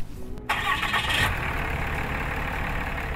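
A truck engine cranks and catches after a brief click, then settles into a steady close mid-pitched idle.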